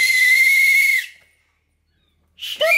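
A toy referee whistle gives one loud, steady shrill blast of about a second, then silence, then a shorter rising toot close up.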